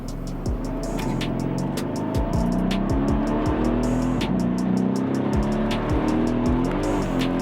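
Mercedes C63 AMG engine revving and dropping in pitch as the automatic transmission shifts through gears, with steady rhythmic clicking inside the cabin.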